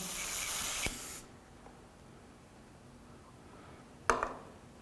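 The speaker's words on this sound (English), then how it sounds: "Clear that airbrush out." Paint being cleared out of an airbrush during candy green painting: a steady close hiss of spray for just over a second, then quiet, followed by a brief faint puff of air near the end.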